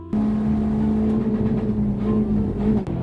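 A truck with a 4.4 V8 engine pulls hard under acceleration, giving a loud, steady, droning engine roar that holds throughout with a brief dip near the end.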